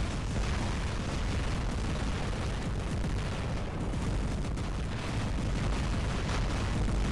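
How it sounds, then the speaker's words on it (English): Robot weapons firing in the War Robots mech combat game, a dense, continuous roar of explosive blasts and booms that stays loud and steady throughout with no pauses. "when I press my right fire button, it fires my left side as well"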